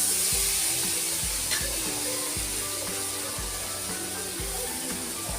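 Small fish being stirred in a pan for a chachchari, sizzling steadily with regular soft scraping thumps from the stirring, close and moderately loud, with no talking.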